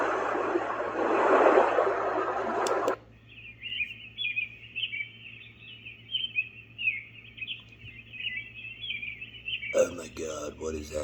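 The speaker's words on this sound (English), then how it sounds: "I hate listening to birds chirp." A white noise machine plays a birdsong track: steady high chirping and tweeting runs continuously after a loud burst of another sound, with a voice talking over the end.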